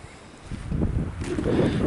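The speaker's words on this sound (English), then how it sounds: "Of course the wind is blowing the snow right in our face." Wind blows steadily on a snowy trail in western New York, a broad gusting rush that buffets the microphone and builds louder toward the end, with no other clear sounds over it.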